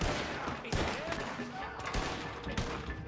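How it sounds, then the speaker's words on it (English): Gunfire from the video game Red Dead Redemption 2 cracks in scattered, loud bursts, about five sharp shots spread unevenly over a constant background din. "Ah, I'm getting shot at."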